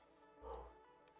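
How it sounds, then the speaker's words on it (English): A pet dog in a home gives a single short bark, muffled and fairly distant, under a low background hum. "If you hear dogs, I'm sorry."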